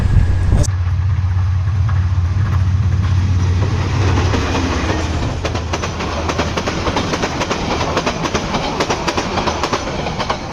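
A train bound for Chinki Astana station passes close and loud, with a heavy low engine drone at first giving way to rapid rattling and clatter of wagons rolling by.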